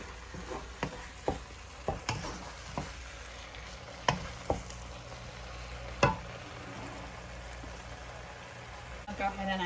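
Spices are stirred in a frying pan while making bhindi, a faint, steady sizzle broken by a handful of sharp spoon clicks and scrapes against the pan, with a voice talking quietly over it.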